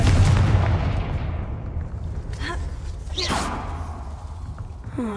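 Confringo blasting spell cast in the Hogwarts Legacy video game: a heavy booming burst that fades out, followed by a couple of sharper whooshing cracks and a short final hit.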